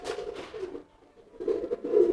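Racing pigeons being fed coo in soft, low, throaty bursts close by, one phrase near the start and another building toward the end with a quiet gap between.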